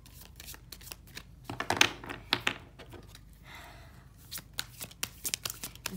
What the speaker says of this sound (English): I'm going to take three cards from the fairies, oracle of the fairies.